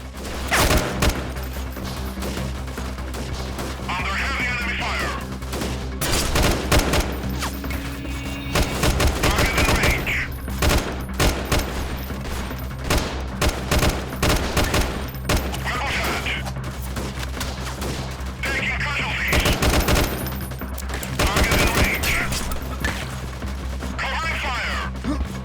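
Gunfire in the video game Freeman Guerrilla Warfare: loud bursts of rifle shots and rapid volleys repeat across the span, mixed with crashes and thuds, while someone talks at times.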